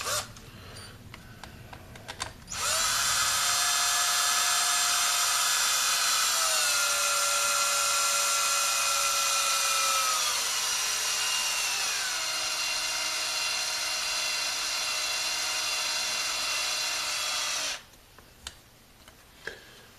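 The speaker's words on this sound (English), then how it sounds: "Probably get the old screw gun on this." A cordless screw gun whirs steadily for about fifteen seconds while driving screws into a DIY FPV spider quad drone frame, its motor pitch dropping slightly partway through, with faint clicks before and after.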